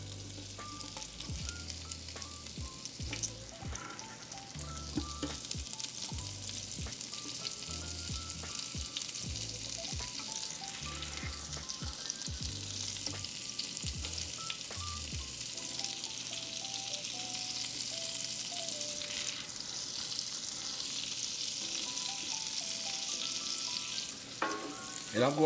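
Chopped onions frying in a pan used for smothered pork chops, a continuous close sizzle with occasional stirring scrapes and knocks, and no talking.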